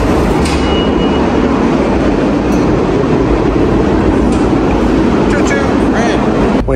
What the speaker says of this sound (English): Waiting for our subway train to come.